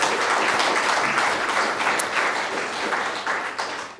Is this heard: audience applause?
yes